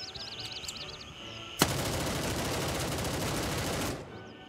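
A long burst of rapid automatic gunfire in the shooter game Gray Zone Warfare, loud and continuous for about two seconds, preceded by faint electronic chirps.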